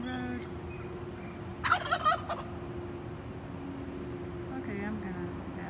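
A wild turkey on a city street gives a quick, rattling gobble, close and clear over the low rumble of nearby road traffic, with a faint second call later.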